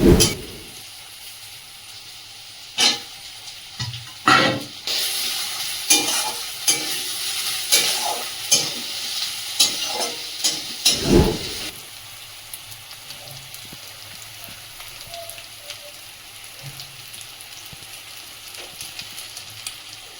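Sliced onions with a little salt sizzle and crackle in a pan for a mutton curry, with repeated stirring scrapes in the first half before the frying settles into a steady soft hiss.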